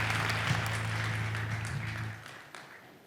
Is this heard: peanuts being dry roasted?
no